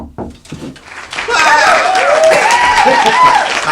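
Studio applause for a guest on a Warhammer wargaming show, starting as scattered claps then swelling into sustained, loud clapping with voices talking and cheering over it.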